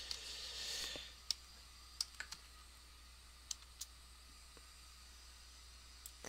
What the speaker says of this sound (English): I'm just going to type that in now